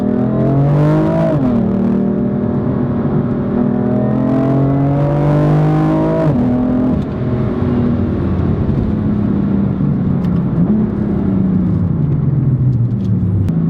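BMW M4 LCI Competition Package (F82) engine revving loudly and close, rising through several gears with drops at each shift, a deep throaty roar that sustains for over ten seconds before easing off, no voices.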